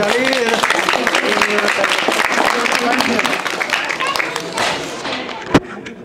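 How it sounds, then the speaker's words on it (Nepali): A crowd claps steadily, a dense patter of many hands under a speaking voice, fading slightly toward the end with a single sharp knock near the close. "ताली चाहिँ बजाउनु पर्यो है"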